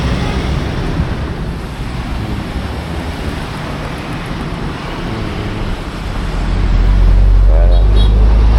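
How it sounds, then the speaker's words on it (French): Sea waves wash onto the beach at Nha Trang on a breezy day, a constant surf rush with wind buffeting the microphone that swells louder near the end. "Il y a des vagues quand même."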